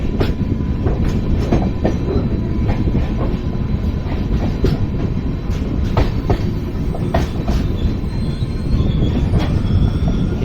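The Panchaganga Express, train 16595, runs on the Konkan Railway near Bhatkal with a loud, continuous rumble and rhythmic clickety-clack of wheels over rail joints. Frequent sharp metallic ticks and squeals cut through the steady roar.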